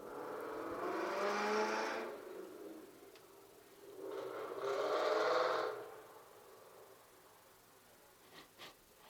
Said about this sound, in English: Somebody with a loud car.